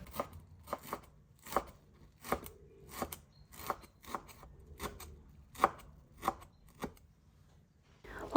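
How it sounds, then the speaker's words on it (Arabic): Fresh parsley or coriander being chopped with a knife on a board for Hyderabadi chicken biryani, a steady run of about a dozen crisp, close knocks at an uneven rhythm with no talk. "ونقطع شوية بقدونس أو كزبرة فريش حسب الرغبة."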